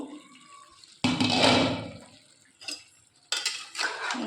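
A lid lifted off a cooking pot of simmering curry with potatoes, giving two distinct metallic clanks with rattling, close by in an otherwise quiet kitchen.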